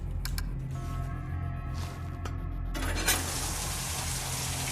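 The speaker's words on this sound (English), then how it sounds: "Let's shower." In the video game The Fall, a shower bursts on partway through, a steady hissing spray of water over a low background hum.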